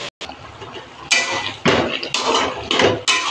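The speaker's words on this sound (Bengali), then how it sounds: "ভালো করে একটু নেড়ে নেবো" A utensil scrapes and knocks against a pan as spinach with bottle gourd and fish head is stirred, several loud clattering strokes over a wet, sizzling background, with no one talking.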